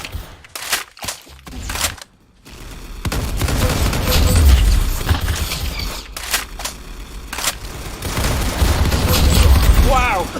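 Rapid bursts of gunfire from a first-person shooter video game, loud and dense with booming shots, interrupted by a brief gap, then sustained firing under excited talk.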